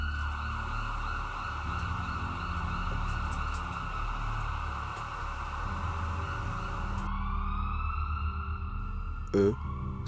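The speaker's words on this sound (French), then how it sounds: "leurs sirènes traversent l'air et leurs gyrophares illuminent la ville" SAMU emergency ambulance sirens wailing through a French city, a steady loud sustained siren tone with traffic rumble beneath, continuing unbroken for several seconds before shifting pitch near the end.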